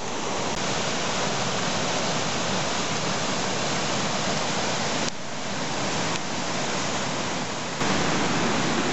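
A river rushes past near a bothy on a Highland trail between Fort William and Dalwhinnie, a loud, steady broadband roar of flowing water with no voices.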